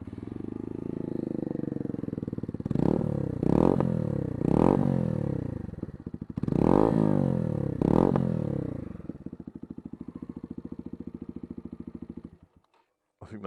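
A Herald Maverick 125 motorcycle is started, then its single engine is blipped through several sharp revs before settling into a close, steady, thumping idle that cuts off near the end.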